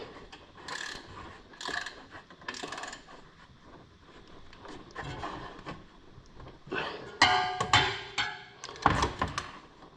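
A ratchet clicks in bursts while tightening bolts during a belt change on a Ford XF Fairmont, close and fairly loud, with metallic tool knocks between the runs of clicks.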